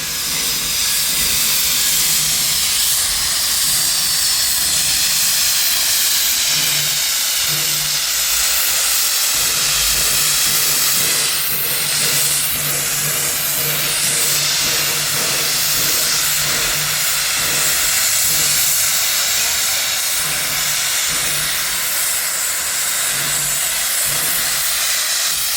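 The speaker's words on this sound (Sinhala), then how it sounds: "බලාගෙන හිටපු පෆින් බිලි ස්ටීම් ට්‍රේන් එක තමයි මේ ඔයාලට පේන්නේ." Puffing Billy steam train at Lakeside Station, Emerald Lake Park, giving off a loud, continuous hiss of steam with low rumbling beneath, steady for the whole stretch with no voices.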